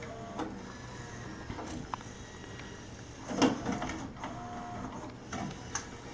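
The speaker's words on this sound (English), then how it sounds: "And that will move the laser carriage up to the top." The laser carriage of a Marantz LV500 LaserDisc player travels across to side B, a faint mechanical whir and soft clunks over low motor hum, peaking briefly midway.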